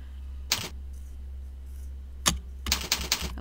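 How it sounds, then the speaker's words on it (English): Computer keyboard typing: one isolated keystroke, another about two seconds later, then a quick run of several clicks, close and crisp over a low steady hum with no voices. "Just type in 8IN on your keyboard."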